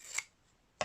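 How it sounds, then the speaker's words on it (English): Two quick, faint snips of scissors trimming fabric for a stitched card, separated by a short quiet gap. "Though I am going to stitch a little, trim a little bit more."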